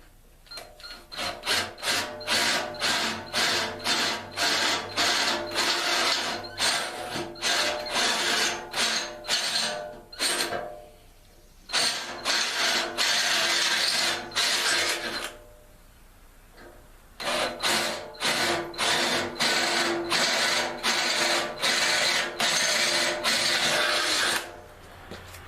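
A drill works on the tow hook of a Yanmar SA424 compact loader, rapid repeated ratcheting bursts in three long runs separated by brief pauses, loud and close.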